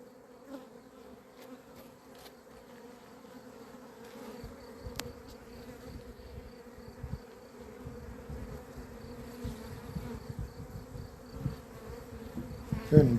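Honeybees buzzing in a steady, soft drone as a swarm enters a hive after scouts announce it, the hum building gradually and growing a little louder toward the end, with no talk.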